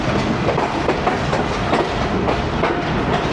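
Tezgam train with an old AC sleeper coach rolling toward platform 4 at Lala Musa, a steady loud rumble with rhythmic clickety-clack of wheels over rail joints.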